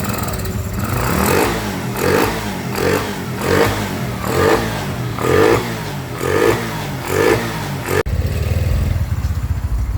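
A freshly tuned motorcycle engine revs in repeated surges, about eight rises and falls in steady rhythm, then settles into a rougher, louder idle near the end, in a repair shop.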